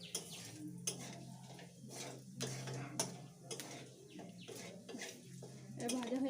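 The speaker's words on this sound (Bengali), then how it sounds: "এবার এটাকে একটু ভেজে নেব যতক্ষণ না একটু এখান থেকে স্মেলটা বের হচ্ছে" A few whole cumin seeds frying in a pan for a thin chicken curry, heard as faint sizzling with repeated scraping and clinks of a spoon against the pan, close and quiet throughout.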